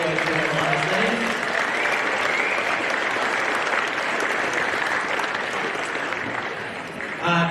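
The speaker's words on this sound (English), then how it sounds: "So big round of applause for all those who are behind the scenes." At a wheelchair AFL grand final day in Victoria, a crowd applauds the volunteers with loud, continuous clapping that holds throughout and eases slightly near the end, with some voices underneath.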